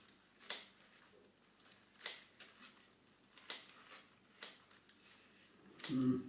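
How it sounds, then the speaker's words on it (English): Kitchen scissors snipping fresh cress over a raw tomato salad, a few quiet, sharp snips spaced about a second and a half apart, close and otherwise near silent. "here I take a kitchen scissors, shears, and cut it right into the salad on top,"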